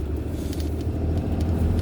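A truck cruising down the road, its steady low engine and tire rumble filling the cabin at an even, continuous level with no voices.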